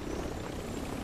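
Helicopter in the video game Fortnite, a steady, dense rotor and engine roar holding evenly close by throughout, with no voices over it.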